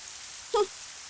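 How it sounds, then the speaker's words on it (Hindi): Steady rain falls in a soft, even wash of patter, broken by one brief louder drop or splash. "तुम इस बारिश में भीगना चाहती हो ना?"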